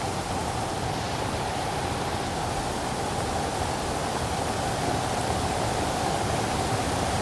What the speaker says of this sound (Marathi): खतरनाक पाऊस आहे, जबरदस्त पाऊस पडत आहे